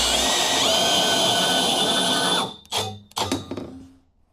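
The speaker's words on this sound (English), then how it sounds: "our weapon of choice, I think, on this should be the bandsaw. That should get us a pretty reasonably good cut here" A bandsaw cuts through roll cage tubing for a Forester, giving a loud, steady metallic whine and grinding that stops abruptly, followed by a few short clanks and rattles as the blade winds down.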